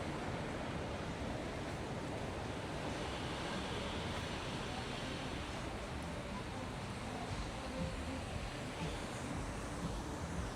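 Ocean waves at My An Beach in Da Nang make a steady, broad wash of surf, with wind buffeting the microphone at moderate level and no distinct breaking crashes.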